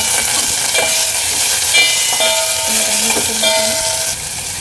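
Tomatoes go into a pan of browned onions and set off a loud, steady sizzle of frying, with stirring scrapes near the pan and no voices.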